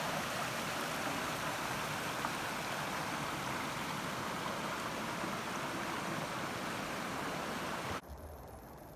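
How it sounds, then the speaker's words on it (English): Steady, even rush of falling water at Hardy Creek in Algonquin Park on an October day, soft and continuous with no voices, ending abruptly in quieter ambience. "Waterfall."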